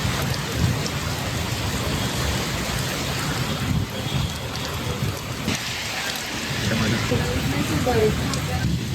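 Steady, heavy rain pours down continuously with a deep rumble of thunder underneath, and faint voices come and go beneath the downpour.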